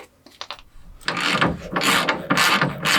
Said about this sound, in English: you can remove the front leaf spring bolt with a 19mm wrench on the back and a 19mm socket on the front